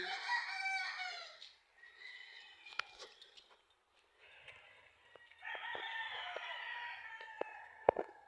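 A rooster crows repeatedly with long, strained calls, fairly close, over a quiet outdoor background with a few sharp knocks.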